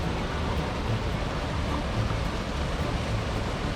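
A waterfall flowing beneath ice on a snowy winter hike, heard as a steady, muffled, broadband rush with no distinct splashes, continuous and even throughout.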